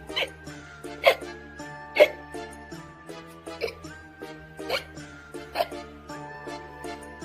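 A storyteller imitates a skeleton's hiccups, giving a series of sharp, voiced hiccup sounds at irregular intervals over gentle background music, with some speech between them.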